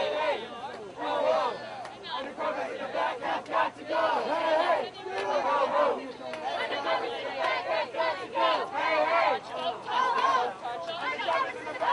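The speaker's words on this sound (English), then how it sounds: "the crowd ends up calling them out" Protest crowd outdoors shouting and calling out at police, a dense, loud wall of overlapping voices and yells that stays steady throughout with bursts of louder cries.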